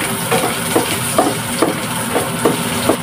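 Garlic and onion sizzle in hot oil in a pan, a steady crackling hiss broken by a few soft periodic stirring scrapes, close and fairly loud.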